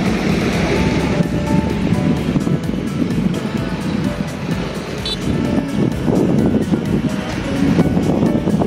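Surf washing onto Nathon Beach on Koh Samui, a steady broadband rush of breaking waves with wind buffeting the microphone and possible engine hum from a boat or car in the background.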